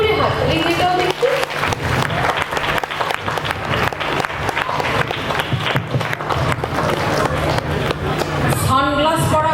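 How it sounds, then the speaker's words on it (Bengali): Audience applause at a Bengali drama, a dense, steady wash of clapping held throughout with voices and tonal sound mixed in. "গল্প ভালো লাগলে একটু জোরে হাততালি দিয়ে দাও দেখি।"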